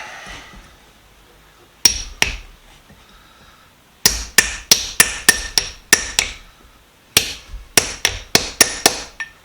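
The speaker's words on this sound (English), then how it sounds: "Hammer." Metal hammer strikes on a vise ring out in bursts: two blows, a pause, then a fast run of about eight, another pause and a final rapid series, close and loud.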